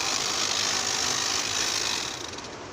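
A tea harvesting machine's motor runs steadily and loudly without pause, a dense, even mechanical drone that fades slightly near the end.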